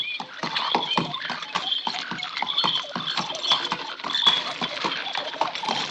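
Horse hooves clip-clop steadily on a road, a quick, even rhythm of close, sharp knocks with a faint rattle and bright high chatter running under the footfalls throughout.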